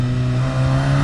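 A loud, close engine of a 2019 VW Jetta GLI 2.0 turbo with a RaceChip tune, launching in a parking lot, droning steadily with a strong low hum, sustained throughout without pauses.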